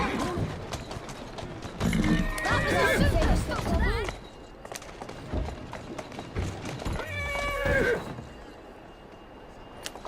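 A horse, a mare, whinnies loudly twice in Assassin's Creed Syndicate, with snorts and hoof clops in between, close by amid a busy mix of movement sounds.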